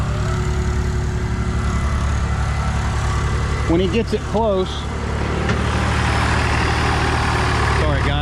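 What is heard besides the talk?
tractor engine grading dirt inside a house foundation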